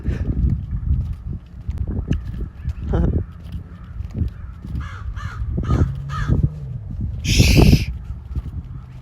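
A crow caws from a tree outdoors, a few scattered calls building to one loud, close caw near the end, over steady outdoor background noise and faint footsteps.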